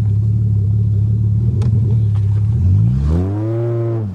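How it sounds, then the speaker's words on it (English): A 1982 Toyota Cressida engine revving hard while doing donuts in the rain, a loud, close rumbling idle that climbs into a rising rev with a sweeping pitch near the end. "Well, let's go do a couple donuts."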